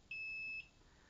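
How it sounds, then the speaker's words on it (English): A single high-pitched electronic beep from an oven signalling it is preheated, lasting about half a second, clear and steady against a quiet background. "Pardon the beeping. That's telling me my oven is preheated"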